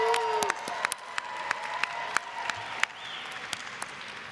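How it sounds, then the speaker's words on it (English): Graduates at a Georgia Tech fall commencement ceremony in a large hall applaud and cheer: steady dense clapping from a big crowd with sharp individual claps and scattered whoops, a tone sounding faintly at the start. "Please rise and loudly cheer."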